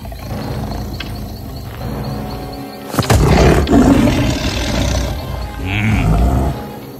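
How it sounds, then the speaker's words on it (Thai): A tiger in an animated fairy tale gives a deep, rumbling roar that breaks out suddenly and rolls on in growling waves, loud and close. "หญิงชราได้ยินเสียงเสือคำราม"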